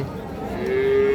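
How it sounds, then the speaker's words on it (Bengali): A calf at the Raniganj cattle market lets out one short, low moo in the second half of the moment, loud and close over a busy market murmur. "এই যে এইটা বাছুর।"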